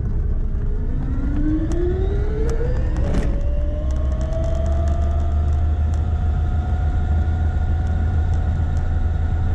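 A home-built electric conversion of an Aixam microcar, fitted with a belt drive, drives in third speed. Its motor gives a loud, steady whine that rises in pitch as it picks up speed, over continuous road rumble, with no talking.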